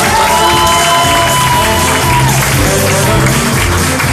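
Wedding guests applauding and cheering in a crowd, loud sustained clapping with shouts while a voice speaks over it.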